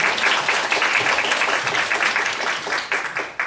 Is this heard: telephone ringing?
no